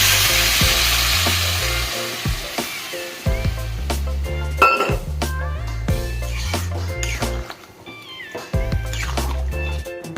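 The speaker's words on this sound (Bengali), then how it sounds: "নুন দেওয়ার পর একটু নেড়ে নিচ্ছি, এবার জল দিয়ে দিচ্ছি।" Okra and potato curry is stirred in a pan as water is added, with loud sizzling and scraping broken by short pauses, plus a few sharp clatters; no one speaks.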